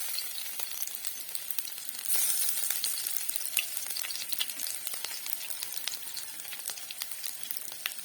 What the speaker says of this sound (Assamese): প্ৰথমে দিম ইয়াত থেতেলি লোৱা নহৰু